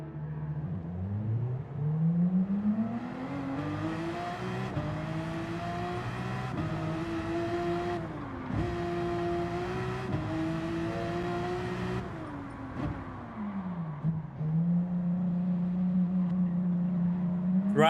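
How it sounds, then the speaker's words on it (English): A Porsche race car engine in Gran Turismo 7 revs and climbs steadily through the gears, with several sharp dips at the shifts and a deep drone between them. The engine stays close and loud throughout. "I'm gonna start a race in the Porsche because it's safer"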